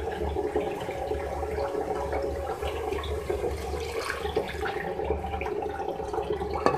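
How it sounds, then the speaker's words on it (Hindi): Water splashes and gurgles steadily into a pot of spiced potato and purslane greens for several seconds, a continuous rushing pour of half a cup with light clinks near the end. "इसमें मैं हाफ कप पानी ऐड कर रही हूँ"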